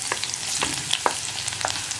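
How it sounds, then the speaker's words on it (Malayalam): Mustard seeds splutter in hot oil in a pan while cooking okra stir-fry, giving a steady sizzle dotted with sharp, irregular pops close by. "കടുകൊന്ന് പൊട്ടിത്തുടങ്ങട്ടെ"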